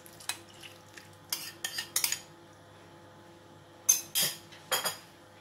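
A utensil stirs first-press coconut milk in a pot for Kapampangan sampelot, making scattered metallic clinks and scrapes in short bursts separated by quiet pauses.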